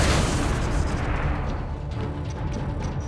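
Torpedo fire and a deep explosion from a starship battle in Star Trek: Enterprise, a loud booming blast that rumbles and fades over a few seconds with no voices.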